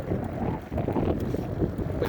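Steady wind rushes and buffets across the microphone outdoors at a flying field, continuous and fairly loud throughout, with a model Airbus A380 aloft in windy conditions.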